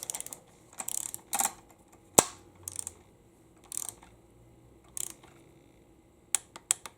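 Wrench tightening the last nut on a 2002 Lexus RX300 U140 transmission, a series of quiet, close, sharp ratcheting clicks and metallic ticks in short irregular bursts separated by pauses.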